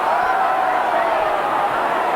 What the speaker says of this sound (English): Crowd looking for the penalty.